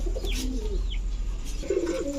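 Pigeons coo softly at a roadside pigeon seller's stall, with a few low rolling coos and faint chirps over a steady background hum, fairly close and alone without talk.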